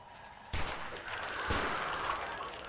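A burst of rapid gunfire erupts from the prison management game Prison Architect, a dense continuous volley of shots breaking in abruptly and sustaining at steady loudness.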